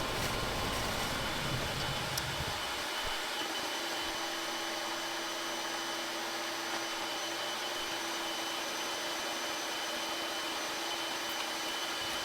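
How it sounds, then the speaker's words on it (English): A dust extractor runs in a small woodturning workshop with a steady, loud broadband roar and hum, a lower rumble dropping away early while the whooshing drone continues unchanged. "Then I used my dust extractor to keep the air moving."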